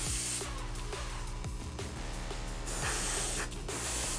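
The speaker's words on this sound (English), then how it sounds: "Just straight top-down airbrushing." An airbrush sprays paint onto a model in a continuous close, soft hiss that holds steady for the whole stretch, with a low mechanical hum beneath it.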